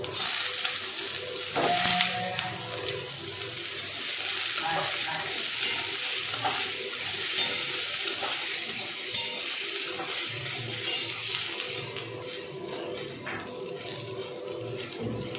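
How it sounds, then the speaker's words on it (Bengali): Chopped vegetables and green chilli sizzle and crackle steadily in a hot pan while being fried and stirred for an oats omelette and dalia upma, with scraping stirs and a brief clatter near the start. "এবার একে একে সব সবজিগুলো দিয়ে দেবো।"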